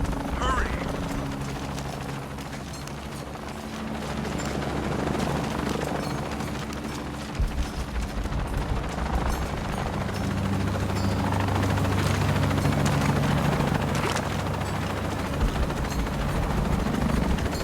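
A helicopter in Shadow of the Tomb Raider flies overhead with a steady, loud rotor drone and beating engine hum throughout, under tense voices talking.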